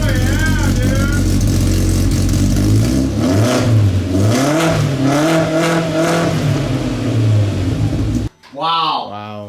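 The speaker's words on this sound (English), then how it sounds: "This car needed this exhaust because it sounded way too sissy before." A Polaris RZR Pro R side-by-side fitted with an aftermarket Assassin exhaust revs hard, its engine note climbing and falling through several loud, close throttle blips before cutting off, followed by a brief final rev.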